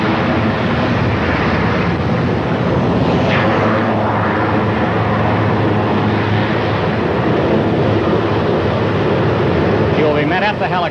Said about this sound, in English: here is the president's helicopter taxiing to a stop.